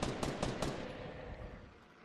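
Gunshots in the battle royale game Fortnite: three or four sharp, close shots in quick succession within the first second, then a fading echoing tail with no voices.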